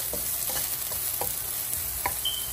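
Onion pieces fry in a pan for Bambino vermicelli upma, a constant close sizzle broken by a few light stirring scrapes, with no voices.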